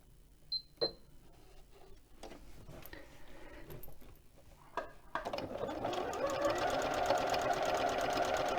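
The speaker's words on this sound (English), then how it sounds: "I just set the buttonhole on my machine." A sewing machine stitches a buttonhole, starting with a few scattered clicks and adjustments before the motor kicks in and runs steadily with a fast, even mechanical whir.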